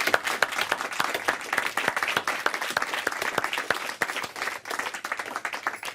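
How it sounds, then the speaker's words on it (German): Audience applause for a band after a live showcase performance in a lounge, a dense burst of many hands clapping steadily and fairly close, with no voices over it. "Un grande applaus"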